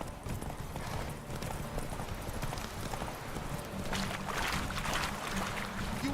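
A horse's hooves clip-clop at a galloping pace across the ground in The Witcher 3, a continuous rhythmic thudding of moderate loudness over soft ambient background.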